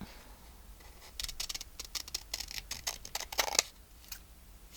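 Scissors snip through paper for a junk journal, a quiet run of crisp, close cuts in an irregular rhythm, with a brief louder burst of snipping near the end.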